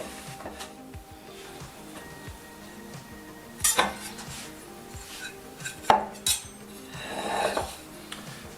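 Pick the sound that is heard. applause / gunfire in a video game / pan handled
pan handled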